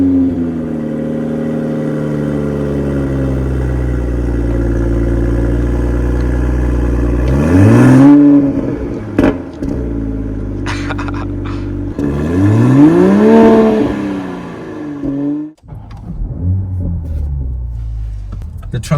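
Engine of a 2023 Toyota GR Supra 3.0 with a manual transmission, idling with a deep steady drone, then revving up sharply twice with rising, falling pitch and close, loud rumble, a brief lull between pulls.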